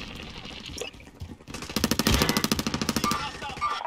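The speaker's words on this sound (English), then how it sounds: "Ah! Hostile fire." Call of Duty Warzone gunfire erupts in a fast burst of automatic shots after a few quieter sounds, rattling at close range for about two seconds and ending in scattered shots.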